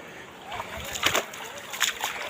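Floodwater from a seasonal stream pours through a breached embankment near a Hoshiarpur village, giving a close, steady sloshing rush with repeated louder splashing surges.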